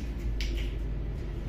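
A single crisp finger snap rings out once, close and short, during a group stress-relief exercise over a quiet low room hum.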